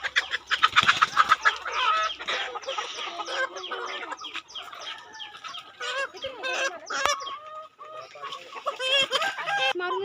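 A flock of chickens cluck and squawk continuously, several birds calling over one another at close range with busy, overlapping chatter.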